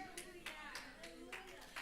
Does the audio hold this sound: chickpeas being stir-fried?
no